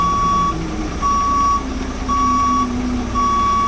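A truck's reversing alarm beeps four times in a steady on-off rhythm as a straight truck backs up during a CDL Class B skills test, with a low engine rumble underneath.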